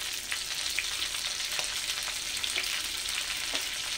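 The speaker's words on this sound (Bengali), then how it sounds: "ফুলকপিগুলোকে এবার একটু ভেজে নেব" Cauliflower pieces fry in mustard oil in a pan, giving a steady, bright sizzle with a few soft crackles and stirring clicks throughout.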